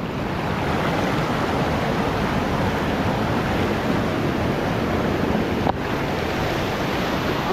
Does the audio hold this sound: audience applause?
no